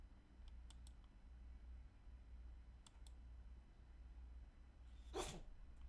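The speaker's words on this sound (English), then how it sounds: "You sneezed on camera?" A person sneezes once, a short sharp burst near the end, against a quiet room with a low hum and a few faint keyboard clicks beforehand.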